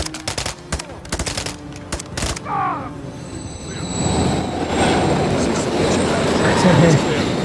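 Rattling clatter of a passing train in Call of Duty: Modern Warfare 3, with rapid rhythmic bursts, followed by a rising metallic roar and squealing wheels as it rushes by, loud and close.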